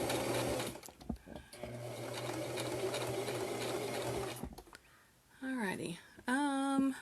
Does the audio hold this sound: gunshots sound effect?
no